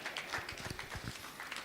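Audience applause at a memorial lecture hall, a light scattered patter of clapping that holds steady for a short burst, moderately distant and fairly faint.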